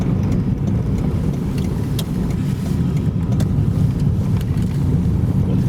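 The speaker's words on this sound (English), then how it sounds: "Here we're coming into the big car park." Cars move around a large riverside car park in Dundee, heard as a steady low road rumble with wind buffeting the microphone, continuous and fairly loud with no talking.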